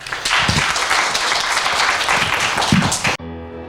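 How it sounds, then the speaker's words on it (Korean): An audience at a university best-practice presentation festival applauds a presenter coming forward, a dense burst of clapping that stops abruptly just after three seconds, followed by quiet. "뜨거운 박수로 맞이해 주시기 바랍니다"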